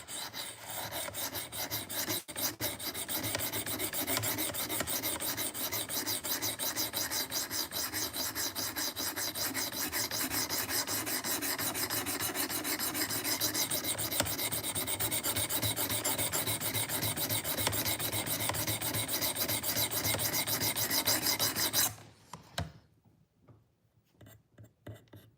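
A knife is drawn steadily across a sharpening stone in close, continuous rasping strokes for over twenty seconds, then stops abruptly, leaving near silence.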